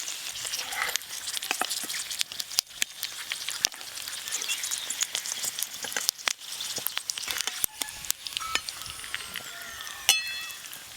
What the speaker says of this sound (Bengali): ধীরে ধীরে দেখুন কি সুন্দর ভাজা হচ্ছে